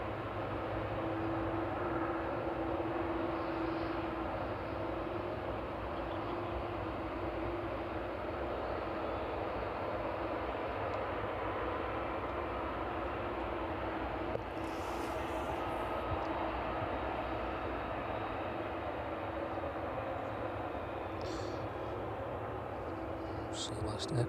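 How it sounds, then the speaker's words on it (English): An aircraft arriving from Belfast touches down on the runway at East Midlands Airport in the evening, heard as a steady, distant broadband roar of engine and airflow that holds level throughout with no sharp events. "That one touching down after 45 minutes in the air this evening, making its way over from Belfast"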